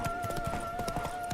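Rapid clip-clop of horse hooves pounds along as a rider spurs the mount in The Witcher 3: Wild Hunt, steady galloping hoofbeats over a sustained game music tone.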